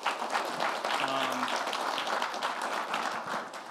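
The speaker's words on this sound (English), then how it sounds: "Round of applause." Audience applause at a corporate speaker series event at PayPal, a steady wash of clapping from a crowd, loud and continuous, briefly joined by a faint tonal voice-like sound near the start.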